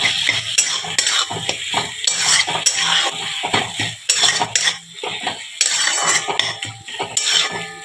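Onion being stirred in a pan for eggplant bharta: a busy, close run of spoon scrapes and clanks against the pan with a light sizzle underneath, repeated strokes throughout with no talking.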